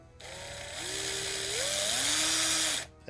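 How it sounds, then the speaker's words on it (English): A power drill fitted with a nut driver bit drives a self-tapping screw during a garage door repair, a close, loud whir lasting under three seconds whose pitch drops in steps as the screw bites and tightens. "So instead, I found one that fits in the end of my drill."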